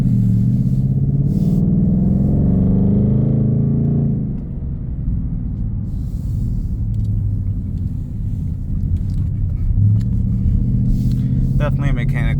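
A 2022 Ford Mustang GT drives along a service drive, its engine rumbling low and steady with a deep exhaust note that eases off midway and then pushes on, heard from inside the car.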